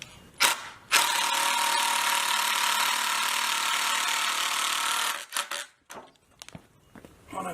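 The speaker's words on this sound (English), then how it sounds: "And we're just tacking it together." Tack welding joins metal pieces together with a steady, loud crackling buzz lasting about four seconds, followed by a few short clanks and handling noises.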